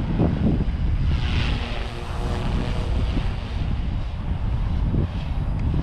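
A SAB Goblin 380 electric RC helicopter with an X-Nova 2820 motor flies outdoors, its rotor noise a loud continuous whir mixed with wind buffeting on the microphone.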